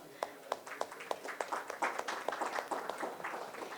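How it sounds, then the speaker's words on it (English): Applause at a conference as speakers' names are called, scattered distinct claps that thicken into a modest round of clapping from a medium-sized audience. "Please join me and give a huge round of applause as I call their name."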